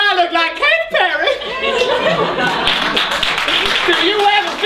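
A live pantomime audience claps and chuckles in a hall, a steady ripple of applause and light laughter running beneath a performer's voice that opens the moment.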